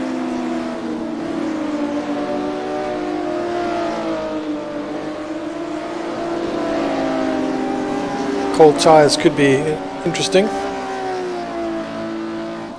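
Classic Porsche Cup race cars in a racing sim hum along with steady engine drone and shifting revs, a burst of sharper tyre and engine noise near the end, all under continuous commentary.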